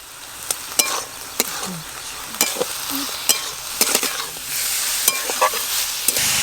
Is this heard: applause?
no